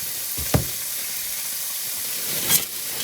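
Vegetables cooking in a pan give a constant bright sizzling hiss, with two brief louder flares of spatter or stirring, close and steady without speech.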